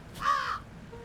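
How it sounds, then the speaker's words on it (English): A single harsh crow caw in the video game Jenny LeClue, loud and close, lasting about a third of a second, followed by a faint low tone. "Ah! Crows! Well, aren't you ominous?"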